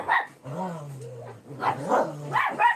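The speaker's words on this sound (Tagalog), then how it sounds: "Maingay yung aso, no?" A dog barks several times in short bursts, close and loud, with a low growl running under the barks.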